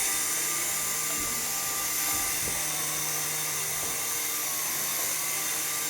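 An RC helicopter flying indoors gives off a steady, high-pitched motor whine with a constant buzzing drone close by, holding unbroken throughout with no speech.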